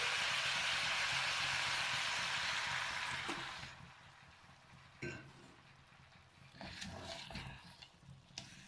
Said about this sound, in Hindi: गोभी ऐड करने के बाद हम इसमें थोड़ा सा पानी ऐड करेंगे।